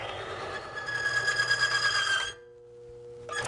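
A One Arm Bandit oil tester runs with Mobil One oil, giving a steady mechanical whir with a high tonal whine for a couple of seconds before cutting off abruptly, then a brief restart at the end.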